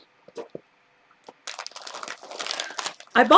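A small zippered quilting project bag crinkles and rustles as it is handled close by, scattered soft taps first, then a dense stretch of crinkling that grows louder toward the end.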